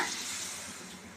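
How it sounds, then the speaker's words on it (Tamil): Mutton liver frying in a pan gives a steady, close sizzle and hiss after half a cup of water goes in, with no talk over it. "அரை கப் தண்ணி சேர்த்துக்கோங்க"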